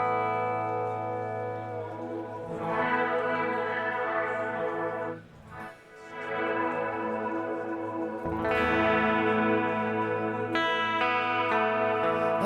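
Sustained electric guitar chords through the Soundtoys Space Blender multi-effect reverb plug-in wash through heavy reverb and chorus-like shimmer, swelling, briefly dipping, then ringing out again with lush echoing tails.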